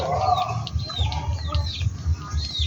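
A hen clucks repeatedly in a steady, low rhythm nearby, with thin high chirps from other birds around her.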